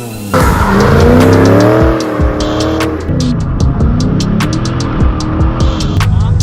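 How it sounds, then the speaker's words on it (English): A Ford Mustang being prepped for a drift event roars through a loud dual burnout, engine revving hard as the tires squeal continuously and close by. "Dual burnout."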